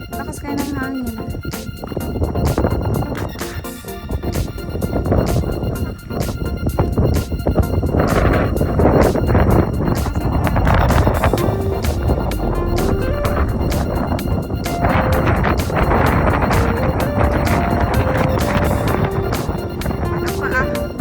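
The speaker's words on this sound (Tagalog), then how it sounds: "Lakas kayo ng hangin." Strong wind gusts batter the microphone outdoors on a hike to a wadi and dam, a continuous roaring rush throughout while people talk over it.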